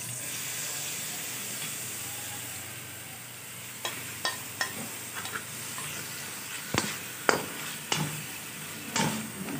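Carrots dropped into a pan of hot oil for chicken chow mein set off a soft, continuous sizzle, then a series of sharp clinks and scrapes from stirring, close and fairly quiet.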